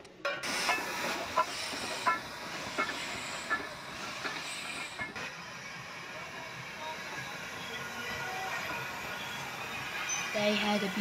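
A restored NGG 16 Garratt steam locomotive hisses and rumbles steadily at a steam weekend, with faint rail clatter and people talking nearby.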